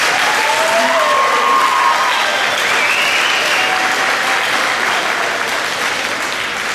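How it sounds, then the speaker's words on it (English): Loud, sustained applause from an audience at a variety show, dense clapping with cheering that holds steady throughout and tapers slightly at the end. "I want another round of applause for the performers"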